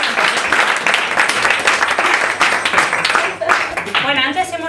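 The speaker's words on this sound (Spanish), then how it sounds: "quiero que la recibáis con un aplauso inmenso" Audience at a storytelling event in La Casa Roja gives a storyteller an enthusiastic round of applause, sustained clapping with some voices and cheers mixed in, fading as a voice begins at the end.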